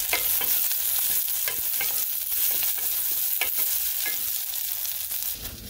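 Ingredients for pipián rojo sizzle steadily in a hot pan while a spoon scrapes and stirs through them, a loud continuous frying hiss with soft rhythmic stirring and no talk.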